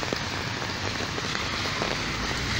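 Steady, dense rain pours down on a Nairobi city street, a constant hiss of drops on the hard surface with no voices.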